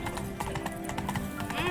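Hoofbeats of Roach, a horse in The Witcher 3, pound in quick repeated clops over game ambience, with a voice calling out over the galloping.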